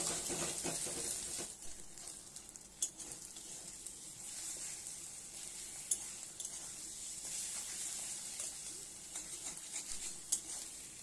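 Egg frying in a wok over a low-to-medium gas flame, a faint, continuous sizzling hiss with scattered soft clicks and scrapes as it is stirred and broken into pieces.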